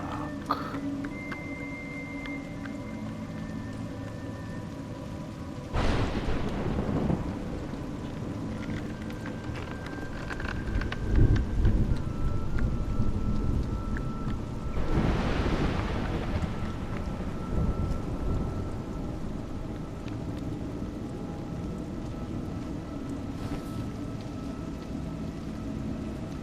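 Steady rain with two long rolling thunder peals, the second louder and closer, under a constant wash of rainfall and some wind noise.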